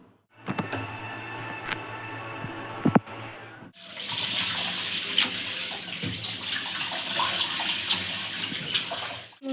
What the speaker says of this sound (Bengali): বন্ধুরা মা মাংস ধুচ্ছে